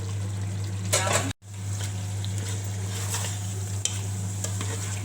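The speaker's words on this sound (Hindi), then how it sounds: "ये प्याज डाल दूँगी, तकरीबन 3 प्याज हैं, ये डाल देती हूँ" About three onions sizzling and frying with spices in a pot, a steady close crackle with occasional scraping stirs and a low hum underneath.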